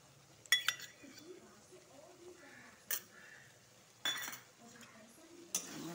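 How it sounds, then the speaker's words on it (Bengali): A spoon clinks and scrapes against a pan while paneer curry with ridge gourd, milk and melon-seed paste is stirred, giving a few sharp metallic knocks over a faint low sizzle, close and quiet. "মগজের পেস্ট আর লিকুইড দুধ ঢেলে একটু লাড়াচাড়া করব"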